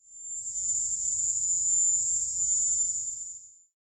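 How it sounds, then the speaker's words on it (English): A recorded high-pitched sound like a Cuban cicada's cry: a steady, piercing electronic-sounding tone held for nearly four seconds, with a faint low rumble beneath it, fading in and out at the ends. "a sound that seemed suspiciously similar to the high-pitched cry of the Cuban cicada"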